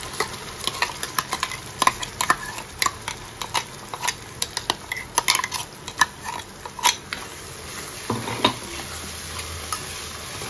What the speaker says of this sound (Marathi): ते वाटप छान परतून घेऊ, कारण हे कच्चं असल्यामुळे जरा हे परतणं गरजेचं आहे